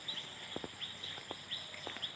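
Faint, high chirps from forest birds repeat in short pairs over a soft background hiss, with a few quiet thuds like footsteps nearby.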